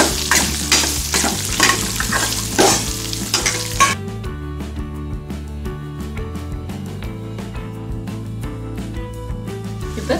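Radish with garlic and green chilies sautés and is stirred in a pan over medium heat for a Tamil-style radish chutney, a steady sizzle with scraping stir strokes, louder for the first few seconds, then quieter and continuous.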